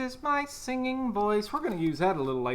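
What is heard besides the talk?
No everyday noise stands out behind the speech.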